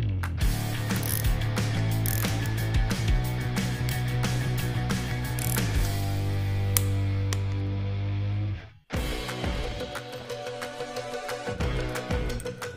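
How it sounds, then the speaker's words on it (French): A ratchet wrench tightens the cylinder head nuts of an old English car to torque, rapid clicking strokes in repeated bursts with a brief pause before a fresh run of ratcheting. "maintenant, je peux les serrer au bon couple de serrage"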